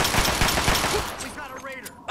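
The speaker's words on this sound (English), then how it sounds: "I just gotta make sure Jericho doesn't die from gunfire." Rapid gunfire rattles loudly for about a second in the video game Fallout 3, then fades, followed by a brief voice and a short burst of noise.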